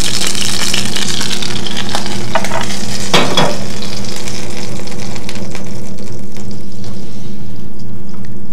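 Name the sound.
lamb liver pieces frying in a pan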